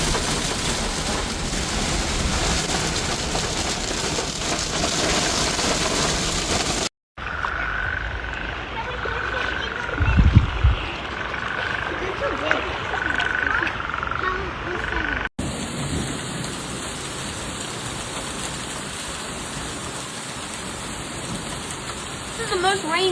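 Steady heavy monsoon rain pouring down in Prescott Valley, Arizona, across the whole stretch, with croaking frogs and a voice breaking in briefly near the middle.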